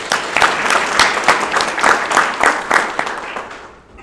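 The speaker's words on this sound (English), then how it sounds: "So let's give him a hand clap." A burst of audience applause at a graduation ceremony, many hands clapping loudly with a few distinct claps, swelling and then tapering off toward the end.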